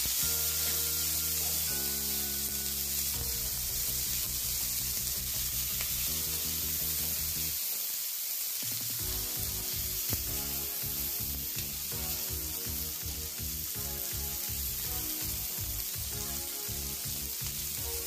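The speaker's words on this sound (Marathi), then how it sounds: "लालसर कलर येऊस्तोपर्यंत भाजून घ्यायचं आहे. सारखं याला परतत राहायचं आहे." Green tomatoes roasting in a pan and being turned, a faint continuous sizzle under steady background music, with soft scraping as they are moved.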